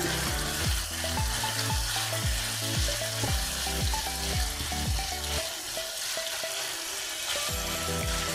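Chicken for homemade shawarma sizzles and fries steadily in a pan while being stirred, with clinking utensil strikes in a loose rhythm over the continuous crackle and no talking.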